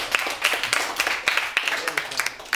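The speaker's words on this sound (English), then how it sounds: "Let's give them a big hand of applause." A small audience claps for several seconds after a math course talk, scattered hand claps forming a sparse, moderately loud round of applause with some voices mixed in.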